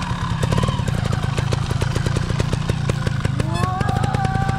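A motocross bike engine revs steadily at close range, its throttle rising and falling with a rapid, throbbing pulse throughout.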